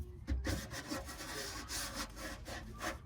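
Rough, rhythmic rasping strokes of a blade cutting into rusted car bodywork on a cheap high-mileage daily driver, close and fairly loud, repeated back-and-forth with no talking.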